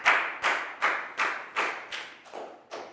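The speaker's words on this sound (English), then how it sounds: "Big round of applause for Pangpon, guys." A classroom group claps in a slow, steady rhythm during an English lesson, about eight sharp, close hand claps with short decays, no talking over them.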